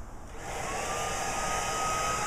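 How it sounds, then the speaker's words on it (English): Steady whine of a combination leaf vacuum and blower clearing yard leaves into piles, rising at the start then holding a constant roar with a faint tonal hum, no voices. "our leaf vacuum, or it's a leaf blower, it's actually a leaf vacuum and blower all in one"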